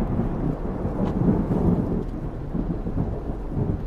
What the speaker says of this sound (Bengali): ফোনটা রাখার সাথে সাথে গুড়ুম করে একটা বাজ পড়লো দিগন্ত কাঁপিয়ে